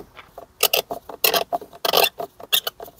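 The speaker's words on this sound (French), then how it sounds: "Maintenant, on passe sur du 8 mm pour défaire le collier." An 8 mm socket wrench loosens a hose clamp on a Ford Probe's air intake hose, giving short, rhythmic rasping ratchet bursts at close range, with brief quiet gaps between strokes.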